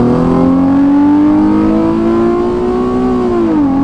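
Loud, close Nissan 350Z engine revving through downshifts, a strong rising and falling engine note that holds steady for several seconds, then dips sharply near the end.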